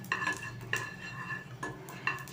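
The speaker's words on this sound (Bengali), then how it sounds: "হিং আর মৌরিকে একটু নেড়ে নিলাম" A few close scrapes and clinks sound as asafoetida and fennel seeds are stirred in a pan for a raw mango pickle, with a faint sizzle underneath.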